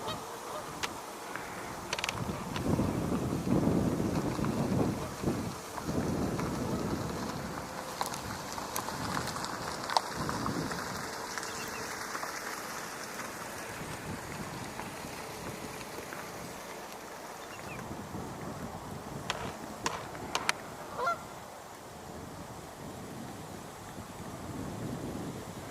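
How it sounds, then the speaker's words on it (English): Gusty outdoor wind buffets the microphone with a steady low rumble, and geese honk intermittently in the background. "there's the wind. Can't do anything about it."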